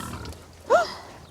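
Pigs on a small farm give one short, loud squeal alone, calling out for their feed.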